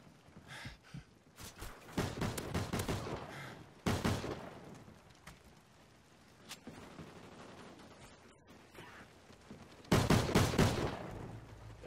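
Gunfire in a first-person shooter match, including shotgun blasts: loud bursts of repeated shots come in clusters around two, four and ten seconds, with quieter scattered firing and action noise between them.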